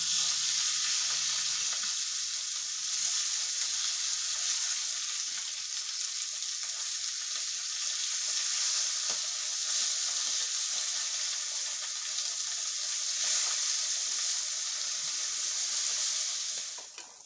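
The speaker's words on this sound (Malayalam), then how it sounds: "ഇപ്പം നമ്മുടെ മീൻ ഒരു വശം മൊരിഞ്ഞു നമുക്കൊന്ന് മറച്ചിട്ട് കൊടുക്കാം കേട്ടോ" Sardines fry in a pan with a steady, loud sizzle that holds unbroken for the whole stretch, then drops away sharply at the very end.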